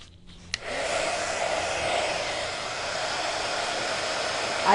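A hair dryer is used to dry a decorated gift book. It switches on with a click and then blows in a loud, steady, close-up whoosh that runs to the end.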